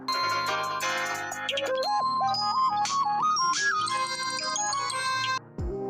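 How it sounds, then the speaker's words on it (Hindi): A Vivo phone plays its ringtone, a bright melodic sequence of chiming tones stepping up and down in pitch, loud and close for about five seconds before cutting off. "देखिए रिंगटोन तो बज रहा है।"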